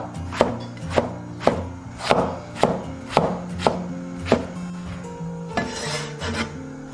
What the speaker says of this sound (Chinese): 然后改刀切成长条